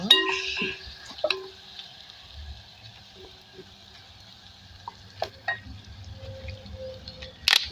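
Quiet stirring of green mango chutney with salt and honey in a pan, soft scraping and faint sizzling with a few sharp clinks of a utensil against the pot.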